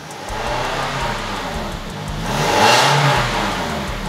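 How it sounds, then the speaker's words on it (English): Close car engine, recently fitted with a new catalytic converter, revved up from idle, the pitch climbing to a peak around the middle before falling back. "Look, I'm revving the motor."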